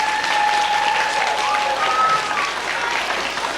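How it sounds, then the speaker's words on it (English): An audience claps enthusiastically for a 2nd and 3rd grade school chorus, a dense, steady wash of applause lasting a few seconds, with a faint tone ringing underneath. "give my 3rd and 2nd grade chorus a giant round of applause"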